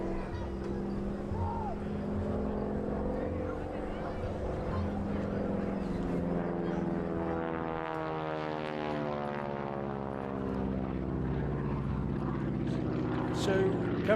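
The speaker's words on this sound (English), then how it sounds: "coming over the top of the loop, it looks as though the aircraft's just run out of speed" A propeller-driven aircraft flies a loop at the Parco Victory Festival air display, its engine droning steadily throughout and rising and falling in pitch as it climbs over the top, with a commentator talking over it.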